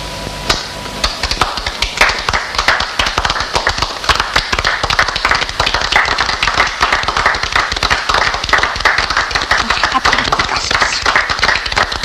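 A crowd of actors applauds on the set of the 1968 Granada television drama about Augustus, with dense, steady clapping that fills the scene from start to finish and holds loud without a break.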